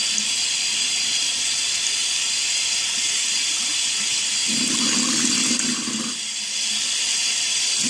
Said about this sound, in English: And I just rinse it out or get it soaked. And then I squeeze the water out.